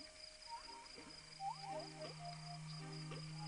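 Synthesized frog calls in the video game Proteus, short chirpy croaks repeating over a steady ambient hum, quiet and somewhat distant in a swampy or beach soundscape.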